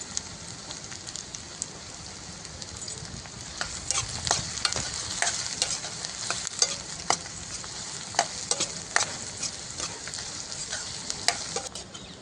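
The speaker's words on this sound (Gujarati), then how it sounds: "તમે ડુંગળી ઉમેરો તો સરસ સંતળાય ને ડુંગળી, એવું ગરમ હોવું જોઈએ." Onions frying in hot oil for a Gujarati tuver totha dish, with a steady close sizzle and frequent sharp pops and crackles that grow slightly busier, and no voices.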